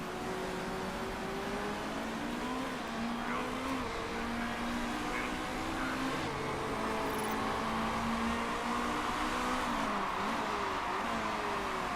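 Race car engines in the Motorsport Manager racing game, set at the Dubai circuit: a continuous, dense roar of several engines at high revs, pitch sliding up and down as cars accelerate and shift, steady and loud throughout.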